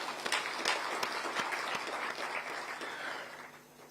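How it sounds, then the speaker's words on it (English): An audience at a Kenyan government ministry's strategic plan launch claps for an achievement, giving soft, fairly distant, continuous applause with scattered sharper claps, without any talking. "join our hands and clap for really this great achievement that we're celebrating today"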